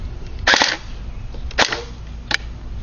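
Three short, sharp bursts of full-auto fire from a wood-stocked Cybergun AK-47 airsoft rifle, close and crisp, separated by brief pauses.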